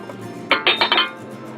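Dry baking ingredients for Colombian pan de bono, including salt, baking powder, sugar, cornstarch and yuca starch, tipped into a mixing bowl: a few quick clinking, rattling bursts close by, then quiet.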